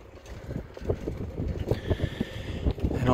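Cool, steady morning wind buffets the microphone while cycling through rural Zeeuws-Vlaanderen near Hulst, a continuous low rumble with gusty swells that grows stronger toward the end.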